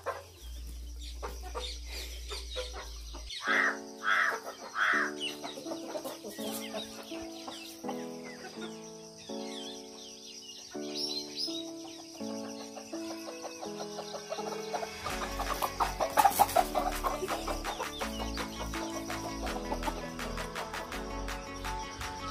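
Native country chickens clucking around eggs set for hatching, a series of short rhythmic clucks and calls, fairly close, with quieter stretches and a busier burst of calls near the end.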